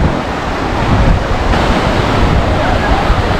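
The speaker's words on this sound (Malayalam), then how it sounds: "തിരമാല വലിയ ശക്തിയില്ലെന്ന് പറയുകയാണ് വളരെ പതുക്കെയാണ് വരുന്നത്" Gentle sea waves wash onto the shore at Velankanni beach in a loud, continuous surf with wind buffeting the microphone.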